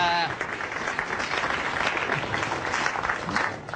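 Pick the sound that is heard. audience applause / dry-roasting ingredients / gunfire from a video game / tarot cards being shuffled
audience applause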